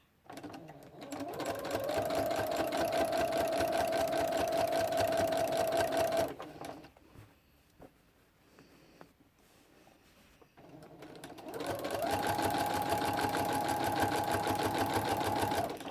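A sewing machine stitches quilt binding at a 1/4 inch seam in two steady, loud runs, each several seconds long, with a quieter pause of shuffling fabric between them.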